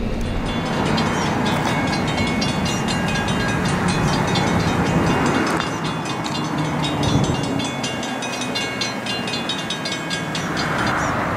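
An Amtrak or Caltrain train rumbles steadily past on the rails south of San Jose, a dense continuous roar with rhythmic clattering, fairly close and loud throughout.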